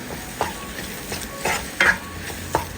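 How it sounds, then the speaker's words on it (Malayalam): Roasted spice powders being stirred into chicken frying in a pan, a soft sizzle under a few distinct scraping stirs of a spoon, close and brief. "ഒന്ന് ഇളക്കി കൊടുക്കാം."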